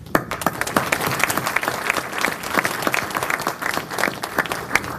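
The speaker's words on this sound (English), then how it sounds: "Great job. Round of applause." A round of applause from a conference audience at an energy event in Boston, fairly close, with individual claps clearly separable in an uneven rhythm.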